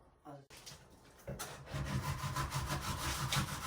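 A drywall tool saws through cured spray foam insulation during a DIY walk-in cooler build, making a rough, rasping scrape that starts after a brief pause and continues as steady, close strokes.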